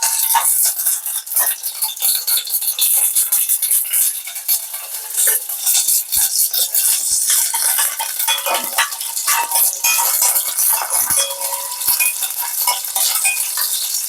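Garlic sizzling loudly in hot oil in a pan while a spoon stirs and scrapes it, with continuous crackling and occasional metal clinks of the utensil against the pan, close and alone with no voices.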